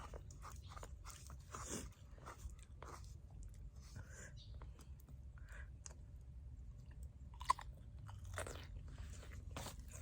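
Sour food eaten right after rice: crisp bites and crunchy chewing recorded very close and quiet, in uneven bursts, with faint murmuring voices in the background.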